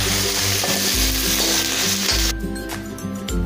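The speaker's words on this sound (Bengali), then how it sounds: "এইয়া ব্রোকলিখিনি খুব ধুনকে ভজা হয়ে গেছে।" Broccoli frying in oil in a pan for a spicy curry, a steady close sizzle broken by repeated scraping stirs in a regular rhythm.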